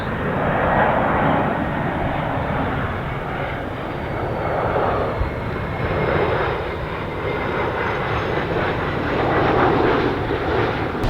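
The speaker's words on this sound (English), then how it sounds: "we're right on the final approach to Myrtle Beach Airport, so you get some outstanding aircraft noise" A low, broad roar from an airplane on final approach to Myrtle Beach Airport passing overhead at night swells and fades slightly, steady engine rumble filling the air, fairly loud with no talking.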